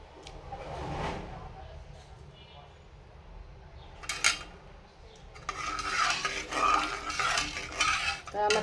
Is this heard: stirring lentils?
yes